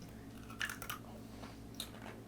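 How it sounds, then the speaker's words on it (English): Crisp crunching bites into a pickle, two close together and then another, with soft chewing between them, close up and fairly quiet. "Oh, what a crunch. They're very crunchy."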